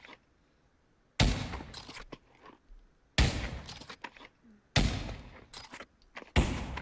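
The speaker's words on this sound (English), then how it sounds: "now we have the Lee Enfield rifle. This was the British bolt-action rifle of choice." A Lee Enfield bolt-action rifle fires in the game Pavlov: four sharp, loud shots about two seconds apart, each followed by clicking bolt-cycling sounds, with near silence between them.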